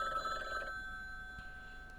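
In the video game Rainswept, a telephone rings briefly and then cuts off, leaving a quiet ambient hum with a couple of faint ticks.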